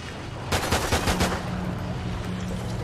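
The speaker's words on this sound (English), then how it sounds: "Let's use a pistol for a second." A pistol fires a quick burst of about five shots in Call of Duty: Ghosts during a solo Nightfall Extinction match, the loud cracks ringing out in rapid succession and then dying into steady background rumble.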